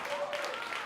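Audience clapping at an awards honors ceremony, a short, moderate patter of hands, fairly faint and mixed with murmuring voices.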